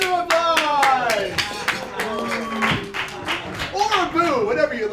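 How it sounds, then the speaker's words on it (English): An audience at a sketch comedy show claps in a string of sharp, fairly regular hand claps, heard under loud talking and singing voices. "Let's give them a round of applause!"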